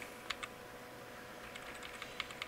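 Keys pressed on a computer keyboard during a Slackware Linux install on a 2005 computer, a few sparse clicks at first, then a quicker run of taps later, faint against a steady low hum.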